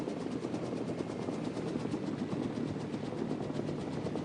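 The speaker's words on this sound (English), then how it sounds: "You just damaged that helicopter." A damaged helicopter in the game Arma 3 flies nearby with a continuous loud rotor and engine drone, a steady rhythmic thrumming that stays even throughout.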